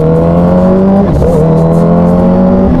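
A Kawasaki Ninja H2 motorcycle engine revs loud and close, a steady high drone with a brief dip and pitch shift midway before settling back into a sustained rev.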